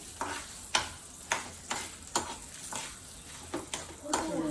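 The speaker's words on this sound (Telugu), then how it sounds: "4 ఎండుమిరపకాయలు, 2 పచ్చిమిరపకాయలు మంచి స్మెల్ వచ్చేదాకా వేయించుకొని" Dried red chillies and green chillies frying in a pan for a Nellore-style coconut chutney, with repeated stirring scrapes every half second or so over a steady, soft sizzle, close and alone without talk.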